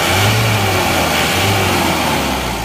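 A car engine, running rough with too much ulir (a wrong jet setting), is revved up and back down in two bursts of throttle, loud and close, with no talk over it.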